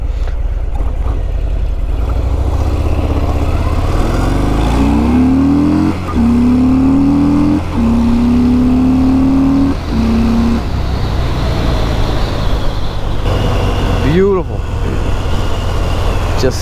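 A Harley-Davidson motorcycle accelerates hard on the road in Landisville, its loud, close engine note climbing through several gears with brief dips at each shift over steady wind rush.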